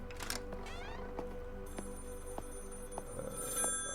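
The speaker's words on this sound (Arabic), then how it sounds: "هنا تليفون نرد عليه بس الأول" A telephone rings in a horror video game set in a hotel, with repeated short bell-like bursts sounding over a steady hum of ambient game music.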